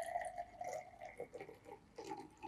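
Juice pours into a glass at a kitchen counter, a faint soft trickle with small splashy bursts in two short pours, alone and quiet.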